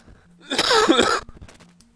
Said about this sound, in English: Oh, I'm going to cough again.